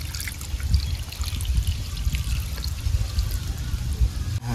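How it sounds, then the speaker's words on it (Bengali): Mustard water is poured over hilsa fish from the Matla river, making a continuous close trickling and splashing of liquid that runs for several seconds. "এবার দিয়ে দেবো সরষের জলটা।"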